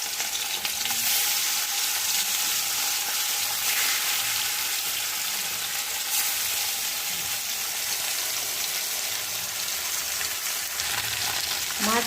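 Katla fish pieces frying in hot oil in a kadai, giving a loud, steady crackling hiss that runs unbroken from start to finish with no voices.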